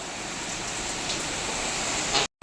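Heavy night downpour with gusting wind, a steady dense roar of rain close by that runs unbroken, with a brief dropout near the end; no distinct thunder clap stands out.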